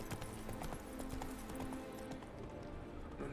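Roach the horse gallops in The Witcher 3, a steady rapid clip-clop of hooves under a continuous game ambience, fairly constant and moderately loud throughout.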